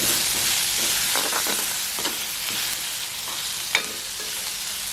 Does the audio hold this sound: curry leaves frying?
yes